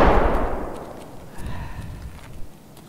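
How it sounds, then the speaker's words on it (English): A frag grenade explodes near an ice cream shack in Escape From Tarkov, one loud close blast that fades into a rumbling decay, followed by a few fainter pops and thuds. "frag out over the ice cream shack"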